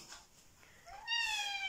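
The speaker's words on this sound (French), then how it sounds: "Ah oui, miaou." A cat gives a single clear, rising meow close by, after a brief stretch of quiet room sound.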